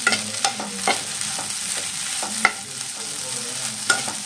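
Okra and egg stir-fry being tossed in a hot pan, a soft continuous sizzle punctuated by sharp spatula scrapes and knocks every half second or so, close up and with no voices.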